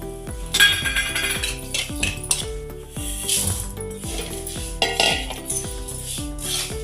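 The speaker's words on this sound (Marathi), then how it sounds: "आणि हे सगळं आपण मिश्रण एकत्र करून घेऊया" Metal spoon scraping and clinking against a pan as spices (mustard seeds, cumin, asafoetida, turmeric, chilli powder, salt) are stirred into a poha chivda mixture, with steady repeated strokes close up and no talk.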